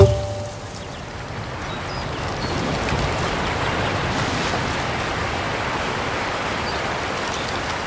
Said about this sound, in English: there's a nice really big waterfall section that you kind of you see it in the background and you hear it,